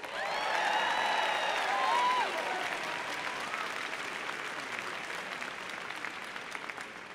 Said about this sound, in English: could we have a round of applause for our bagpiper, Wayne Morris?